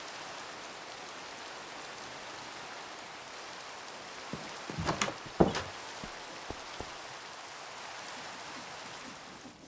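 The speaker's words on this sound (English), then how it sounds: "It's raining and it's nighttime and I hear creatures." Steady rain falls at night in the Minecraft video game, a continuous even hiss throughout, with a few brief louder splashes or thumps in the middle.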